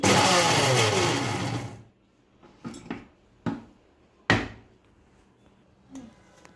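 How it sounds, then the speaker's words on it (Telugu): A loud mixer grinder grinding chutney whirs for under two seconds and stops, followed by several sharp knocks and clatters of the jar. "ఇలా మిక్సీలో వేసుకున్న తర్వాత గ్రైండ్ చేసేసుకుందాం"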